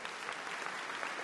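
A brief burst of dense audience applause at a concert gala in Timișoara, steady and moderately distant, with no voices over it.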